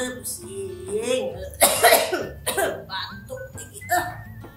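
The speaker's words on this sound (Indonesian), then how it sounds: "Batuk lagi." A voice coughing a few times, short harsh bursts mixed with brief speech-like sounds close up.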